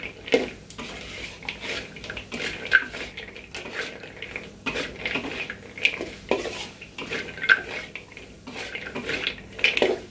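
Fried popiah being stirred and tossed in a pan, with repeated scraping and clinking of a utensil against the metal, steady and close, with no talk over it.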